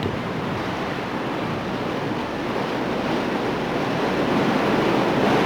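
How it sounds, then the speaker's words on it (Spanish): Dammed reservoir water gushing out of two hollow-jet valves at the Majes irrigation works near the Colca Canyon, a loud continuous broadband roar with no pauses, steady and slightly building. "El agua embalsada sale por dos válvulas de chorro hueco"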